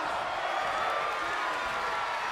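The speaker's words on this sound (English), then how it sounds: "Crowd chanting, "We're not worthy."" Wrestling event crowd filling the arena with a steady, dense roar of voices and chanting, sustained and fairly loud throughout without breaks or individual standout sounds.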